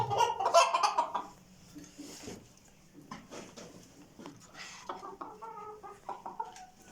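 Dutch white-crested roosters cluck and cackle nearby, loudest at the start, followed by softer clucks, rustling and a few scattered calls.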